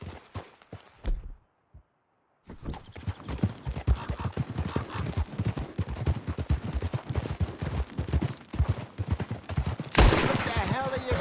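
Gunfire and horse hoofbeats in Red Dead Redemption 2 out on a hunting and camping trip, with a dense, rapid run of sharp cracks and thuds after a brief silence and a louder burst near the end.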